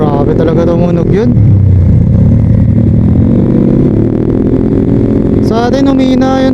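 Close, loud revving of a Honda PCX160 scooter fitted with a CVT, the engine note swooping down then climbing and holding steady before another rise.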